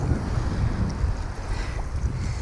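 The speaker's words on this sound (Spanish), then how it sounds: "hay olas, y aparte hoy también hay viento" At Playa Los Frailes in Ecuador, a sheltered beach, gusty wind rumbles against the microphone while ocean waves wash in steadily, loud and unbroken, with no talking.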